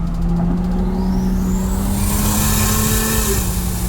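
An 800hp Ford Falcon FG FPV F6 with a paddle-shift setup accelerates hard on the street, engine drone rising in pitch through quick gear changes, loud and close from inside the car, without talk.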